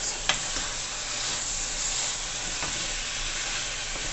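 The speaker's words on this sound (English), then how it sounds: "I'm gonna get a wooden spoon so this doesn't make a lot of noise." Steady loud sizzling of pepper steak frying in a pan, with a wooden spoon stirring and a light tap or two of wood against the pot.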